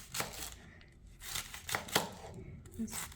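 Knife chopping vegetables for Mauritian achard on a cutting board, a handful of sharp irregular cuts close by, mixed with rustling and a person talking.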